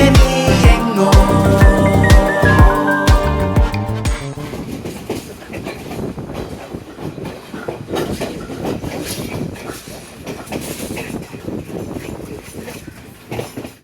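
A passenger train running from Kandy to Colombo in Sri Lanka: loud rhythmic clatter with tonal music-like lines at first, then a continuous dense rumble and rattle of moving carriages, heard from on board.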